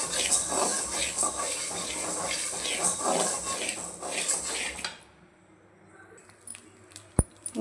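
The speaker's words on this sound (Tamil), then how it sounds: "நல்லா வறுக்கணும், பொன்னிறம் ஆகிற வரைக்கும் சன்னத்திலே வச்சு." Ingredients for idli podi dry roasted and stirred in a metal pan on low heat: steady scraping and rattling of a spatula against the pan with a soft hiss, stopping midway, then quiet with a sharp clink near the end.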